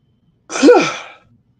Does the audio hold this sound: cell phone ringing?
no